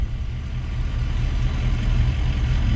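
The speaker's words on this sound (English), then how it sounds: "so you can hear the noises the truck's making" A modified truck with a suspected faulty transfer case runs nearby, a steady low engine rumble with drivetrain noise continuing throughout without any clear clunks standing out.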